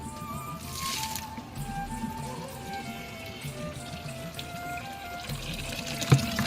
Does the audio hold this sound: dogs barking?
no